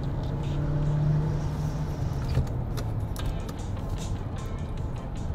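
A 2019 Hyundai Santa Fe with an 8-speed automatic accelerates as the transmission kicks down, giving a steady engine hum and road noise from inside the cabin, moderately loud, with faint clicks and rattles and no voices.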